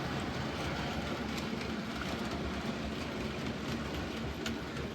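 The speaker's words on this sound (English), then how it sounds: "Entering the scenic area, coming up the incline. Watch the train a bit." A Christmas model train climbs an incline on a model railway, making a faint, steady rolling whir with occasional light clicks from the track.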